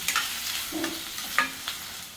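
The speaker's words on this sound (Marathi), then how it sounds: "कढीपत्ता आणि ठेचलेलं आलं लसूण आता चांगलं परतून घेते मऊ होईपर्यंत तेलामध्ये" Curry leaves, onion and crushed ginger and garlic sautéing in oil, a quiet steady sizzle with a few light spoon clicks and scrapes against the pan.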